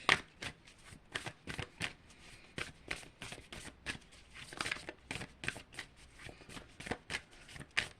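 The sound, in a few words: shuffling tarot cards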